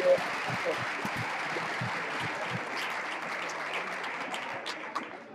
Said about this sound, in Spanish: Bueno, un fuerte aplauso también.